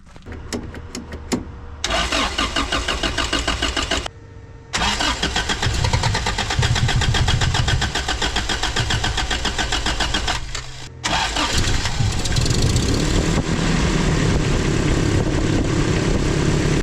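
A 1980s 4x4 truck engine cranks in several rhythmic starter bursts with short pauses, then catches and fires up into a loud, steady close idle.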